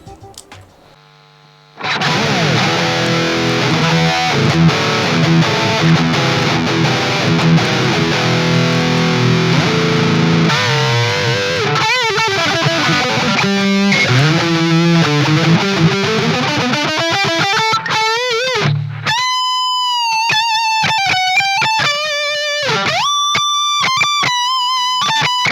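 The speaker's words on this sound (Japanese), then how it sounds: "今まずカッティングエッジ鳴らしますね" An electric guitar played through a VOX Cutting Edge distortion pedal: loud, heavily distorted chords ring and sustain, then sweeping bends and a run of sharp single-note phrases.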